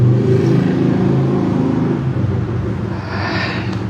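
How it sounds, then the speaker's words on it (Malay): A motorbike goes past on a road, a steady close engine drone and rumble that fades a little toward the end, with no voices over it. "kita bagi motor tu lalu dulu"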